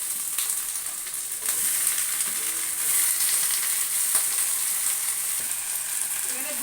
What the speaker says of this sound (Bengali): কেটে ধুয়ে রাখা পরিষ্কার করে পুঁই শাকগুলো দিয়ে দেবো।